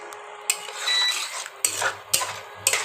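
Chili chicken is stirred in a metal pan, with a utensil knocking and scraping against the pan in several distinct strikes over a low background sizzle, close and with no speech.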